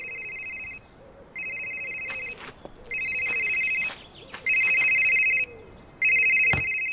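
A cell phone rings in the horror game Someday You'll Return, an electronic trilling tone repeating in regular bursts with short silences between, close and clear, with faint footsteps.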